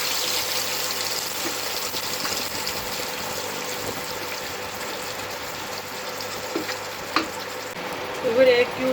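Beef frying in hot oil in a pot for beef pulao, a dense continuous sizzle that holds steady throughout, with a couple of brief clanks of a utensil near the end.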